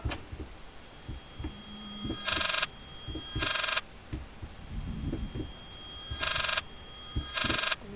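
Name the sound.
telephone ringing in video game Layers of Fear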